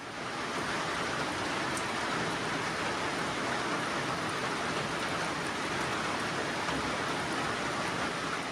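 Steady rain falling at a shelter on the Appalachian Trail on a wet day, a dense, even hiss of drops on the roof and ground with no pauses, close and constant throughout.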